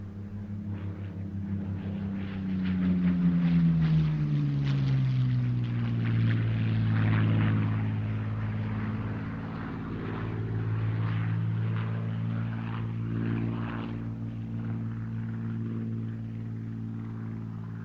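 A P-40F Warhawk fighter at the Duxford air display, its piston engine droning steadily overhead, the pitch sliding downward as it passes and then settling into a sustained hum that fades gradually.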